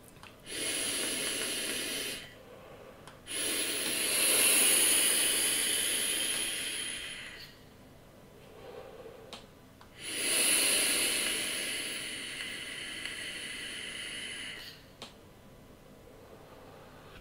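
Long hissing exhales of vapor from a Joyetech eGo ONE e-cigarette with a carbon fiber tip and airflow wide open, two drawn-out breathy puffs with a short gap between them, close up and alone.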